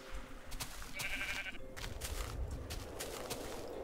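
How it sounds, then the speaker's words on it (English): Minecraft sheep bleat in a brief tonal burst over a steady bed of game ambience and background noise, fairly faint and without speech. "So we need to kill one more sheep, and then I'll check."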